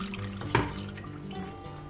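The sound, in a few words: water poured into bowl of wheat starch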